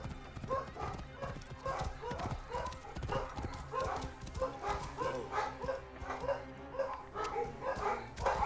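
Dogs bark repeatedly in rhythmic bursts, close and moderately loud, mixed with clip-clop-like thumps. A voice speaks briefly underneath.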